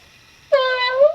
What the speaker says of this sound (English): you can still press the button here. And it will still move its head and meow.